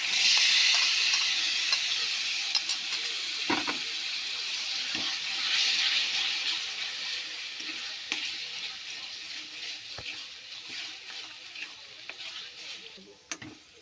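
Chicken paste stirred into frying masala, a loud hissing sizzle at first that gradually softens, with occasional spoon knocks and scrapes against the pan, close and alone.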